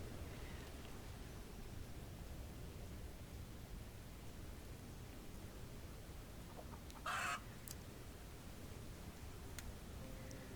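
Chickens around a coop in the building game Fabledom cluck faintly against a steady hiss of ambient noise, with one brief, louder call partway through.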